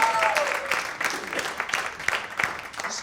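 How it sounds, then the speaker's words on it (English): An audience at a stand-up comedy and illusion show claps to welcome a volunteer onto the stage, a brief moderate round of applause with a bit of crowd noise. "Give him a round of applause."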